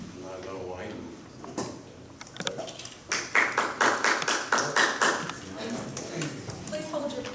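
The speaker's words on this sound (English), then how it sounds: "Please hold your applause to the end." Scattered hand claps from a small audience at a Hopkinton, NY town board meeting rise in a brief, uneven burst of applause, fairly quiet and mixed with people talking in the room.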